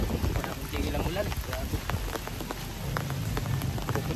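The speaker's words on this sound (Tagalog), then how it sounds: "Maraming tigil ang ulan." Steady rain pours onto a surface close by, a dense continuous patter with scattered heavier drops, and faint voices under it.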